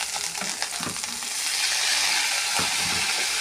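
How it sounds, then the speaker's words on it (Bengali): Okra and red lentils go into a pan of frying potatoes and onions for a curry, a steady close sizzle with a couple of soft clatters as they land. "আলু পেঁয়াজ ভাজা ভাজা হয়ে এসেছে এবার ভেন্ডি আর মুসুরির ডালটা দিয়ে দেবো"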